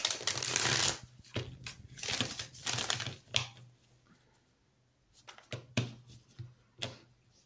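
Tarot cards shuffled and cut by hand, giving repeated quick papery riffling bursts in close, irregular clusters at low volume with a faint hum underneath.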